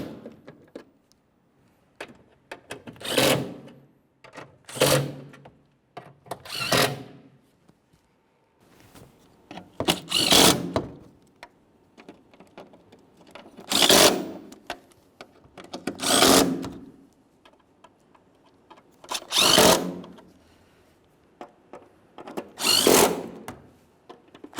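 A power tool tightens 10mm-headed bolts on a 2012-2018 Nissan Altima 2.5L four-cylinder during knock sensor replacement, giving about nine short close whirring bursts at steady intervals with quiet gaps between.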